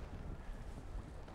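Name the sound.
wind blowing over lake while fishing from boat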